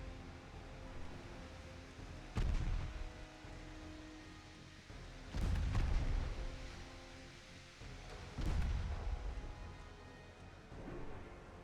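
Naval shells striking an enemy ship in the Ultimate Admiral Dreadnoughts game: three heavy, rumbling booms spaced a few seconds apart over a steady low roar.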